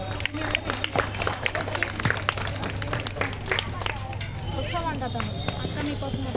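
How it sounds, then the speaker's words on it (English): Audience applause follows a child's Telugu poem recitation at a community event, steady scattered clapping mixed with crowd murmur and voices talking over it, with a low electrical hum beneath. "Please give him a big round of applause"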